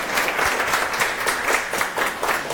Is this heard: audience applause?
yes